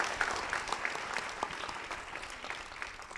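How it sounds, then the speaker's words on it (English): Steady applause from a housing summit audience greets a panel, many hands clapping at moderate loudness with scattered sharper claps standing out, sustained throughout. "Cornelis and our panel a round of applause"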